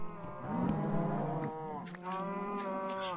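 Minecraft cows moo in long, drawn-out calls, one after another, clear and close, with no talking over them.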